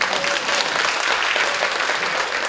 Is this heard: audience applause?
yes